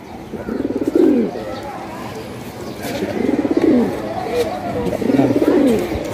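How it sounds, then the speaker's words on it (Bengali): Domestic pigeons, Sirazi breed, cooing in repeated low rolling phrases at a sale, with three clear coo bouts close by over a steady background murmur. "এই নতুন আসছে কবুতর, দেখেন।"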